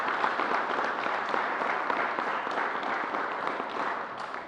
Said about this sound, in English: So let's give New Yorkers a round of applause